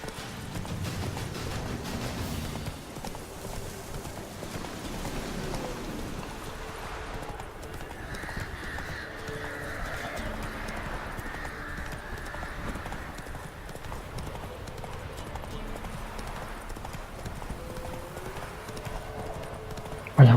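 Roach, the horse in The Witcher 3, galloping with fast, steady hoofbeats under game ambience, then slowing near the end.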